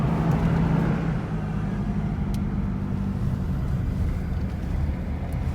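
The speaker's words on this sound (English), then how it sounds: "We're driving back into the park right now." A truck drives into Rocky Mountain National Park, its engine a steady low rumble heard from inside the cab, somewhat louder at the start and then holding an even level.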